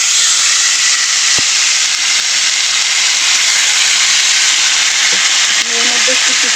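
Chicken pieces sizzling in a hot pan over a gas flame, a loud, steady, close hiss of frying that continues throughout, with a couple of faint clicks and brief background sounds toward the end.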